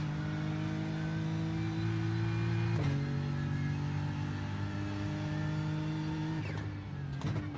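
A race car engine in the iRacing sim droning steadily at high revs, with a couple of quick gear-change dips, mid-level and without talk.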